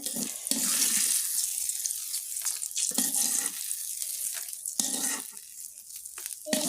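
Dried chilies fry in a pan with bursts of crackling sizzle and scraping stirs, alternating with quieter gaps.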